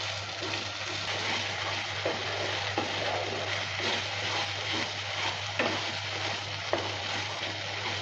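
Chichinga (snake gourd) mash with salt and turmeric stirred in a pan: a continuous, even frying sizzle with soft scraping strokes from the utensil recurring every second or so.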